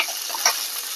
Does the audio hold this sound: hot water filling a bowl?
no